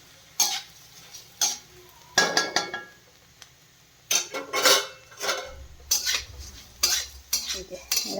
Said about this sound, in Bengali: একটু তেল বেশি করে দিতে হবে, দিয়ে এরকম চিড়েটা ভাজতে হবে